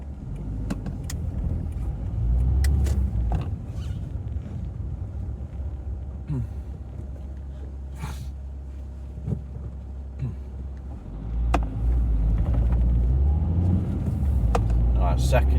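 Suzuki Swift with a manifold absolute pressure sensor fault out on a test drive, a steady low engine and road rumble heard from inside the cabin, with wind noise and scattered clicks.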